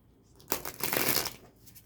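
A deck of tarot cards shuffled up close, a single riffling, papery burst of about a second between quieter moments, with no talking.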